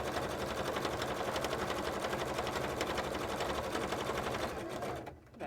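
A sewing machine runs steadily for about five seconds, stitching sparkly cosplay pants with a dense, even mechanical whir at close range, then slows and cuts out briefly near the end.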